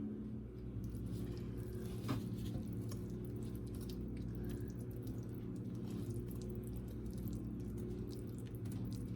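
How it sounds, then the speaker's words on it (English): A whisk beats cake pop mixture in a bowl, giving a soft, steady wet patter and squish over a low background hum, quiet and continuous with no talking. "we're going to beat our mixture with our whisk"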